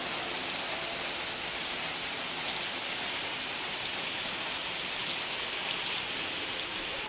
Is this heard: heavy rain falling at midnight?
yes